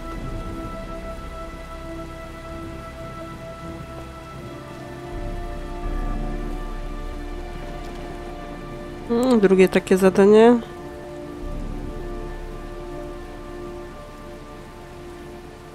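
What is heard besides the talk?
rain falling in the video game Heavy Rain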